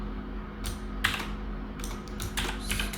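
Typing Python code on a computer keyboard, with scattered bursts of key clicks over a steady background hum, loud and close, with no voice.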